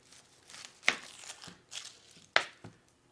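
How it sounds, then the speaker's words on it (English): A knife chops the tops off sweet Vidalia onions on a board, two sharp crisp cuts about a second and a half apart with softer scraping and handling between, close and quiet. "I'm just going to whack the top off each one of these."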